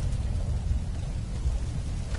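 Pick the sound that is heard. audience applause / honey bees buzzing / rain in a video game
rain in a video game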